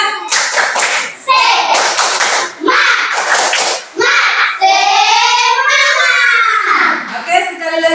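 Schoolchildren perform a rhythmic clapping chant in a classroom icebreaker, with loud, close group clapping in bursts set against unison chanting voices.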